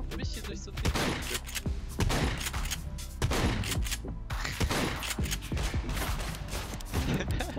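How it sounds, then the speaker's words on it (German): Rapid gunfire in the survival video game Scum, dense bursts of sharp shots crackling almost continuously and loud throughout, with brief speech mixed in. "der schießt einfach auf mich hier durch so ein Ding"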